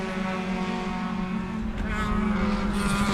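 A tight pack of race cars, including an ITR Corvette and a Miata, roars past at Sebring, with overlapping engine notes building to a louder, higher surge toward the end.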